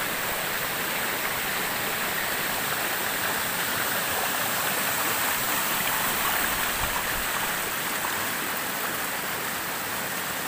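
Steady, dense rushing of a waterfall fills the whole clip, loud and unbroken with no pauses or voices.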